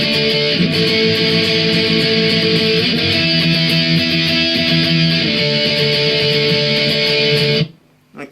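Guitar strumming the chorus chords of a song, a steady, loud strummed pattern with ringing chords that cuts off abruptly near the end.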